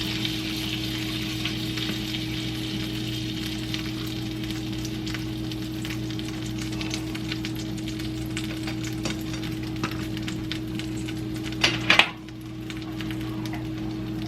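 Meat sizzles steadily as it fries in a pan, a close, even crackling hiss that continues alone until a brief clatter near the end and a drop in the sizzle.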